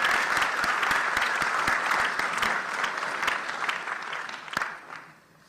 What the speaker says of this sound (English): let's give our loyal donors another round of applause